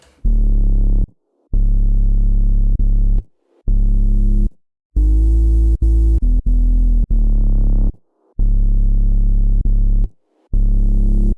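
A thick, layered bass synth made in Serum plays sustained notes in a stop-start rhythm with pitch bends, brief gaps between phrases and a gritty, saturated low end.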